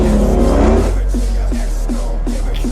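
A 1,000-horsepower Hellcat car revs loudly up close, a deep engine roar rising and falling in several short bursts.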